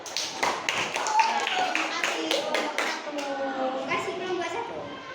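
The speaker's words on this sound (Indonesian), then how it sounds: "beri aplaus untuk kelompok 1" Students in a classroom clap for group 1 after a presentation, with a burst of scattered claps for about three seconds before children's voices and chatter take over.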